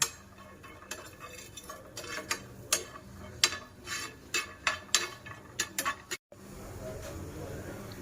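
Tamarind and garlic dry-roasted in a pan without oil, stirred with a utensil that scrapes and clinks against the metal in irregular taps and strokes, close and fairly quiet, with a brief break near the end.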